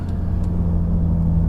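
An F10 BMW M5 drives along small roads, its engine giving a loud, steady low rumble from inside the cabin with only slight variation in pitch.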